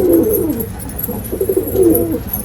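Pigeons coo in a loft, close and fairly loud, with repeated low throaty calls rising and falling in two or three overlapping bursts.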